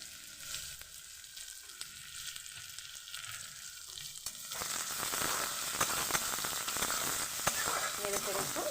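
Chopped onions sizzling and frying in hot oil in a wok, the crackle swelling louder partway through as stirring begins, steady and close.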